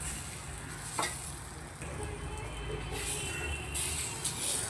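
Batter being stirred in a hot pan for a thin fish-fry dish, giving a steady close sizzle with scraping stir strokes and a few sharper clacks throughout.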